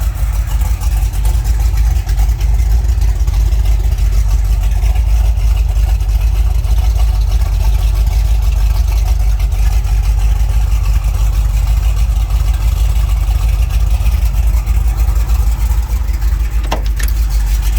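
Chevrolet Camaro SS with a 396 big block and mild cam runs steadily, a loud, deep, constant rumble with a slight lope, heard up close and alone with no talking.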